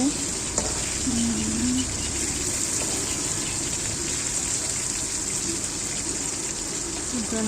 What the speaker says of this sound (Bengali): মাছ ভাজা হয়ে যাচ্ছে